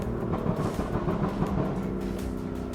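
Tuned 2015 BMW M3 engine, heard from inside the car while braking and downshifting, a steady dense rumble with low tonal bands and small revving swells, continuous and fairly loud throughout.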